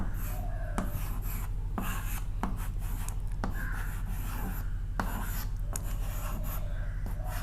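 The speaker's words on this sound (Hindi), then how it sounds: "पहले हम लिख लेंगे शब्द" Pen or pencil scratching out a Hindi word by hand during a grammar lesson, a close, steady rasp in short strokes with brief pauses, over a constant low electrical hum.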